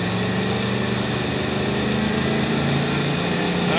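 A mid-model Chevy car engine roars steadily at high revs during a burnout with both tires spinning, a loud, continuous drone that holds through the whole moment without talk.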